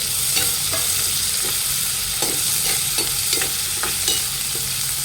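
Two large chopped onions fry in oil with whole spices (cloves, black peppercorns, cinnamon) for chicken sukha, making a continuous close sizzle broken by regular scraping stirs.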